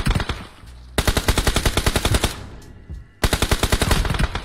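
Rapid automatic gunfire in the battle royale game PUBG, a loud close burst of evenly spaced shots, a pause with quieter shots, then another sustained burst, with no talking.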